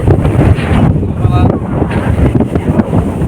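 Strong wind buffets the microphone in a loud, constant roar with little letup, in the hills of Idukki, Kerala.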